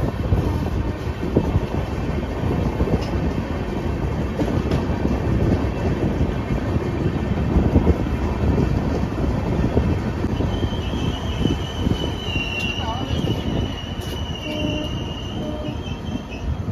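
Rupashi Bangla Express pulling out of a station: a loud, continuous rumble of rolling wheels and carriages, with thin metallic squeals rising near the end.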